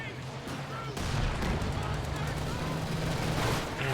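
A grenade blast booms in the World War II strategy game Company of Heroes 2, set within a dense rumble of ongoing battle noise and distant gunfire, with a commentator speaking over it.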